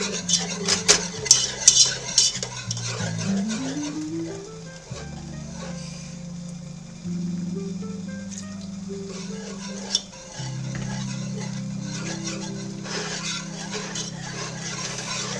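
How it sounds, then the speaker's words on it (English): Clinking whisk strokes against a metal pot are heard while whisking a baked mac and cheese mixture, rapid and busy at first, then easing, over a low steady hum from the stove, close by. "We are whisking this into full incorporation."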